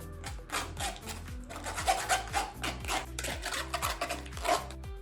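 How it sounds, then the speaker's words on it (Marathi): Tamarind pulp is pressed and rubbed through a kitchen sieve, making soft, repeated rasping scrapes in an irregular rhythm, fairly quiet and close, with a low steady hum underneath. "जी आपण चिंच बारीक करून घेतली आहे तो जो कोळ आहे तो या फक्त चाळणीतनं एकदा गाळून घ्यायचा"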